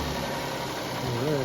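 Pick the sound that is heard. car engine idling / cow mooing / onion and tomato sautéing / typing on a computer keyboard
car engine idling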